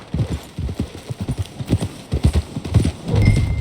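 Horse hooves clip-clop steadily on the ground in Red Dead Redemption 2, a close, rhythmic series of hoofbeats lasting several seconds, with the pace quickening slightly toward the end.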